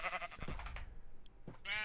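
Sheep in Minecraft bleat in a short, wavering call, followed after a brief gap by a second bleat, fairly faint and with no talking.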